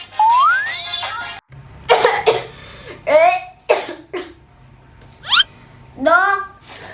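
Two children take turns hacking and clearing their throats in a string of raspy, voiced coughs of varying length, some with squeaky rising tones, heard up close with short pauses between bursts.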